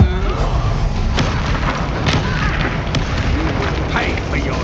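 Bombarda explosion spell cast in Hogwarts Legacy during a duel: heavy booming blasts and thuds over constant battle clamor, with a voice speaking throughout.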